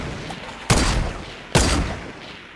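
Two loud, sharp magnum shots in a video game, spaced under a second apart, each a sudden crack with a short decaying tail over a quiet background.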